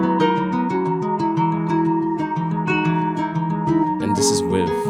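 A guitar-loop trap beat produced in FL Studio plays without vocals, with steady plucked guitar melody over punchy drums and a dense, continuous groove.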